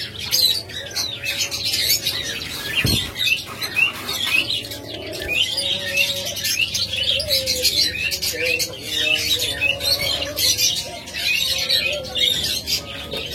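Caged doves and lovebirds keep up a busy stream of chirps and squawks with soft cooing beneath, steady and fairly close, with one sharp knock early on.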